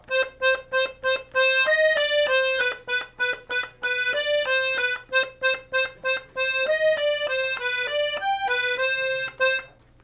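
A 32 bass accordion plays a minor-key melody in detached, reedy notes with a steady rhythm, some notes held longer, over a soft sustained low drone, clear and close.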